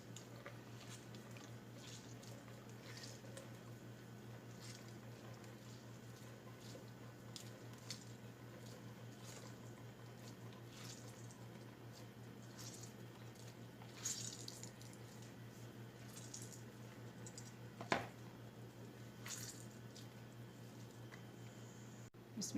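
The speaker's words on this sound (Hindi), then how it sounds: "लौकी का एक्स्ट्रा पानी हम हाथों की मदद से निचोड़ लेंगे।" Grated bottle gourd squeezed by hand to wring out its water, faint wet squishing and occasional drips over a steady low hum, with a few slightly louder squeezes, no talking.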